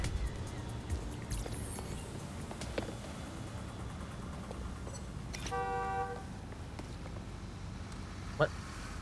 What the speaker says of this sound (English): I heard a honk, but I don't know where that was.